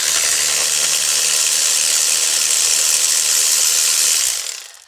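Continuous loud rasping ratchet clicks while spark plugs are removed from a 2019 Honda Civic 2.0 K20C2 engine, steady for about four seconds before cutting off.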